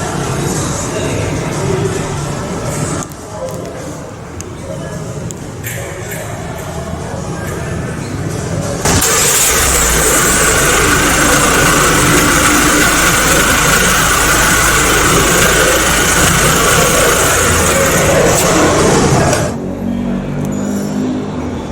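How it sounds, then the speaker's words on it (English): A Kia Grand Carnival 2.2 diesel, started by remote, turns over and settles into a loud, steady idle that runs for about ten seconds before cutting off, with quieter background noise on either side. "This has a remote engine start feature."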